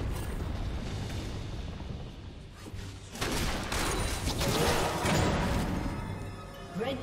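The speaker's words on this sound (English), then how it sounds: "Red team's turret has been destroyed." A League of Legends turret collapses in a loud burst of explosive, crashing game effects, dense and roaring, swelling midway through and continuing over a constant bed of battle noise.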